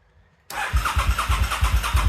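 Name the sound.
trying to start an immobilised motorbike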